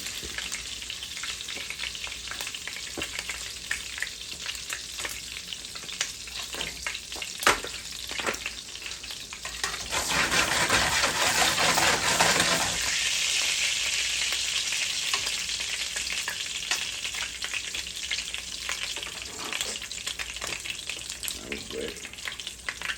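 Meatballs frying in hot grease in a pan, a steady close sizzle that swells louder midway as more are stirred or added, then settles back to a continuous crackle.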